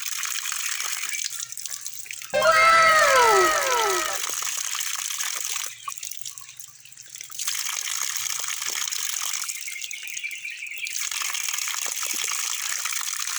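Natural spring water flows continuously with a steady bright gushing rush, briefly louder and splashier near the start, with someone talking over it at moments.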